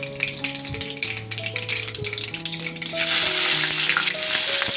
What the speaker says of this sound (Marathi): आपल्याला कांदा टाकायचा त्याच्यामध्ये.